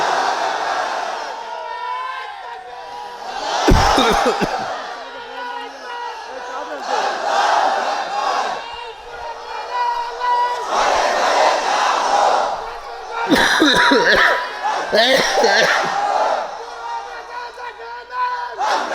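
A large crowd at an open-air Islamic sermon roars the takbir in loud unison, several massed shouting bursts rising and falling across the stretch, with a preacher's voice between them.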